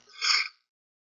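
A single short, sharp human sneeze, fairly quiet and alone, bursting out and fading within half a second.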